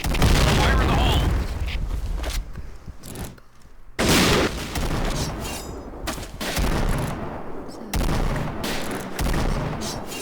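Grenade blasts and gunfire from the Point Blank shooter game, with loud booming explosions and rattling shots in a dense, chaotic mix, several heavy impacts spread across the clip amid constant battle noise.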